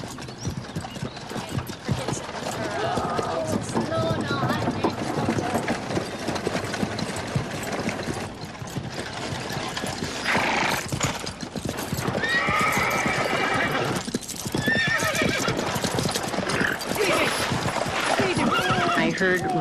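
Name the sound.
horses galloping and whinnying, running away with a covered wagon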